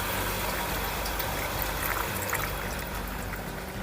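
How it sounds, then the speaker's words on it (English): Water runs down a Takasho Mirador 111S louvered pergola, 10 by 13 feet, making a dense, constant rushing wash with steady trickling throughout and no voices. "you can see the water running down to the corner over there"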